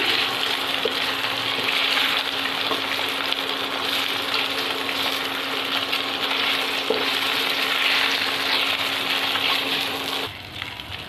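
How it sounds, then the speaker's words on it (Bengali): Pieces of katla fish fry in hot oil in a pan, giving a dense, steady sizzle that holds evenly throughout and drops off abruptly near the end. "এবার আমার মাছটা ভাজা হয়ে গেছে, আমি তুলে নিচ্ছি।"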